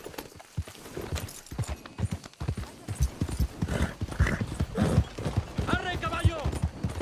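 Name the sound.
horse hooves clip-clop in Red Dead Redemption 2 video game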